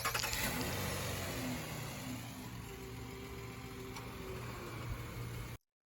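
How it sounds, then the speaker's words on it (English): A 2019 Nissan Murano SV engine runs after a remote start, giving a steady, fairly quiet hum. It holds a constant level, then cuts off abruptly just before the end. "hold down that starter button at the top for up to about 5 seconds or until you hear the car actually rev"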